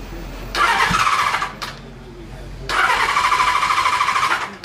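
Engine of a rebuilt Kawasaki Z1300 motorcycle with choke applied cranking and catching in two bursts: a loud, rough mechanical running sound of about a second, a pause, then a longer run of about two seconds, close by.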